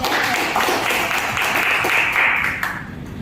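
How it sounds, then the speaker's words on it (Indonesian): Audience applause for the Malaysian delegation at a student ASEAN summit model meeting, a steady wash of clapping from a room of people that holds for about three seconds, then thins and fades. "berikan tepuk tangan terlebih dahulu untuk delegasi Malaysia"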